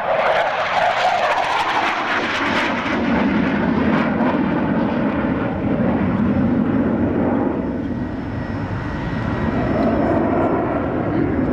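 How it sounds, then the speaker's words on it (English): A Tornado jet roars past at an air show, a loud sustained engine rumble filling the whole stretch while an announcer talks over it. "we're actually designating for the Tornadoes. Pulling up shortly for barrel roll."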